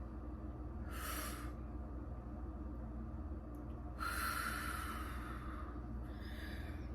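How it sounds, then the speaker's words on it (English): A person breathing in and out during a morning routine: two soft breathy puffs, one brief and one longer, faint and close over a constant low background hum, with no talking. "Breathe in, breathe out."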